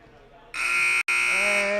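A loud electronic buzzer blares at the end of the first half of a boys' varsity high school basketball game between Tupper Lake and Saranac Lake, starting sharply after a brief quiet moment and holding steady with one tiny break.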